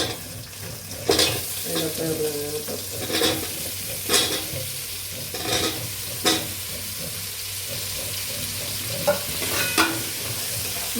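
Onions sizzle steadily in a pan for a coconut-based chicken curry, with sharp scraping stirs every second or two over a constant frying hiss; a faint tonal trace that may be background voice sits underneath.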